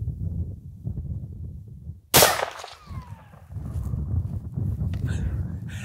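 A single sharp gunshot from a .375 rifle cracks out mid-clip, loud and close, ringing briefly afterward, with someone talking before and after it.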